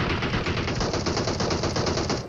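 Continuous rapid automatic gunfire in a battle royale shooter, loud and close, rattles steadily without a break for the whole stretch, with no talking.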